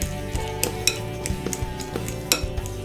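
Guacamole being mashed and mixed in a bowl, with scattered clinks and taps of a utensil against the dish over a steady background hum, close and moderately loud.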